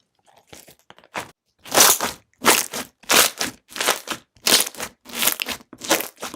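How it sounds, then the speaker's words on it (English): Clear slime is pressed with a racket, making a rhythmic run of about nine crisp, crackling crunches, each a loud burst separated by short silences. "this looks so beautiful when you press down on it with a racket"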